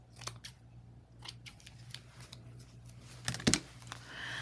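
Close, quiet snips of scissors trimming paper for a shabby chic layered craft tag, a series of short crisp cuts with one louder snap near the end over a faint steady hum.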